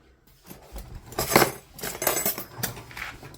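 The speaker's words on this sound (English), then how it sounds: "so you got some old cutlery here." Old silver cutlery and other utensils found in an abandoned farmhouse estate, handled and jostled together in a series of close, bright clinks and jangles, loudest in a few clustered bursts, no voices.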